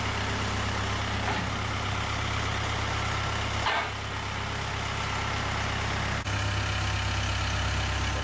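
A tractor engine runs at a steady idle on a site where a wood-fired hot tub is being built, a continuous close, loud rumble with no break in its drone.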